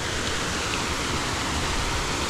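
Constant close rush of cascading water at the last tier of Chet Sao Noi waterfall, a brief, even wash of noise with no pauses or talk.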